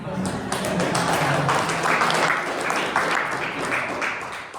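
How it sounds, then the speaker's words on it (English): Audience applause fills the room, many hands clapping together in a lively, continuous wash, with a voice faintly underneath. "give yourselves a round of applause"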